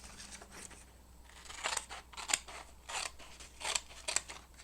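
Scissors cut through a paper wildflower identification chart, producing a run of crisp, close snips and slicing crunches in irregular bursts, faint and without talking.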